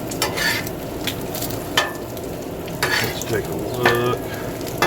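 Bacon sears on a Blackstone flat-top griddle, crisping at the edges, with a steady close sizzle and occasional stirring scrapes; someone speaks briefly over it.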